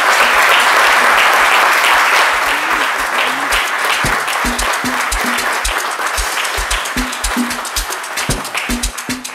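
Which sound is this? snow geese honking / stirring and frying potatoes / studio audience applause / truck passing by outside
studio audience applause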